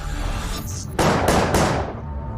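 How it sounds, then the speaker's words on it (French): Three sharp gunshots ring out in quick succession from an upper floor, a sound effect with each bang bursting loud before a short fading tail. "3 coups de feu retentissent à l'étage"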